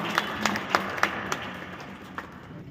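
Sparse applause at a doctors' conference in Delhi, a handful of distinct, fairly close handclaps spaced out over a couple of seconds and thinning toward the end, over low room murmur.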